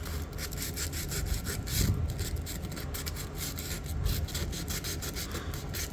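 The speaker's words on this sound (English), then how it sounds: "Hit it with the sandpaper a little bit." A knife blade is rubbed with 400 grit sandpaper, a steady rhythmic scraping of back-and-forth strokes, close and fairly quiet, with no talking.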